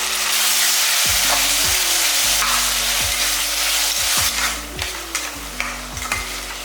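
Four tomatoes cut into big pieces fry in a pan for tomato rice, with a loud, steady sizzle and repeated stirring scrapes, while a low droning tone shifts in steps underneath.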